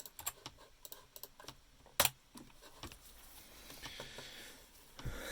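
Computer keyboard keys tapped in quick, irregular bursts while entering AutoCAD drawing commands, close and fairly crisp, with one sharper louder keystroke midway and a faint room hiss underneath; no talking.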